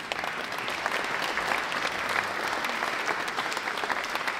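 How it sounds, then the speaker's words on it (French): A congregation at Santa Pudenziana church breaks into full, continuous applause, a thick wash of many hands clapping at a steady moderate level with no one speaking over it. "c'est Jésus qu'on applaudit"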